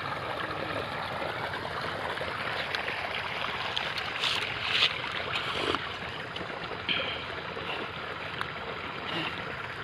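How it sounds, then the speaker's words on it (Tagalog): Strong stream of water gushing steadily onto onion plants in a field, a broad continuous hiss with a few brief splashy surges, fairly close and alone without talk. "Yung kanyang sibuyas na Derek, malakas po yung tubig."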